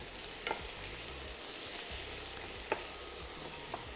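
Corn kernels frying in a pan give a constant soft sizzle with occasional small pops and a scrape of stirring, fairly quiet and steady throughout.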